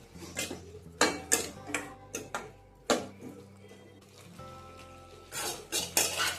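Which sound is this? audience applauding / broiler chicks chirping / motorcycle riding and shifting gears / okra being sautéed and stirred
okra being sautéed and stirred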